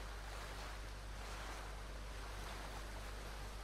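A waterfall in the video game Ghost of Tsushima pours a constant, dense rush of water, steady and unbroken with no voices over it.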